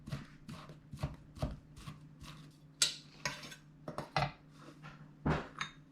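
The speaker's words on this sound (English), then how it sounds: "So with your knife, just like this. Make sure you chop it finely." A knife chops finely on a cutting board while preparing lemongrass chicken, with quick irregular thuds and knocks, close and fairly quiet, with no talking.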